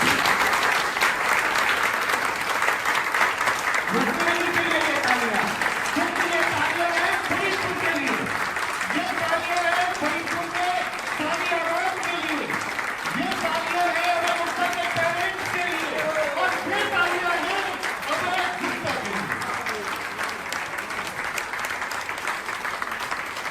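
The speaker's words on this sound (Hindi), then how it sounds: "मैं चाहूंगा 50 मिनट ना सही, लेकिन 50 सेकंड तक कंटिन्यू ताली बजनी चाहिए।" Steady, continuous applause from an audience at a ceremony honouring an achievement, dense clapping sustained for over twenty seconds with voices murmuring beneath it.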